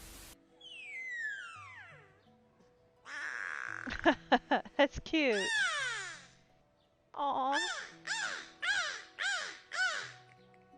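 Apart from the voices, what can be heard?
beluga whale high-pitched calls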